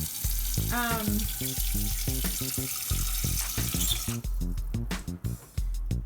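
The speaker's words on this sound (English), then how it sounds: "you wanna turn on the water and fill up the pan right away so that it's easier to wash" Running tap water pours into a sticky pan from making rice crispy treats in a kitchen sink, a steady splashing rush with clattering knocks against the metal, close and loud throughout.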